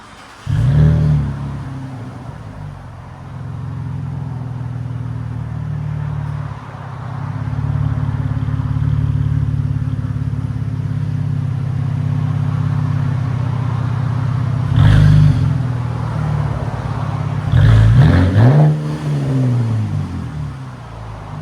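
A 2013 Cadillac ATS with a 3.6L V6 and a muffler delete idles with a loud, deep rumble, then blips its throttle in a few sharp revs near the middle and end, with no talking over it.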